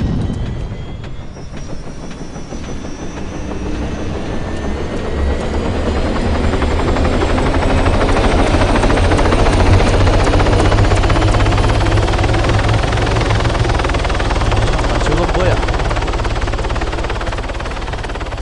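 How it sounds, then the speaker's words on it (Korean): A helicopter in Arma 3 roars loud and steady, its rotor thump and turbine whine holding for the whole stretch and swelling slightly toward the middle, with no voices over it. "헬기 조심."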